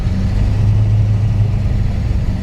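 A 1937 Buick engine runs steadily as the clutch engages, giving a loud, close low rumble with a humming drone that swells slightly and holds without breaks.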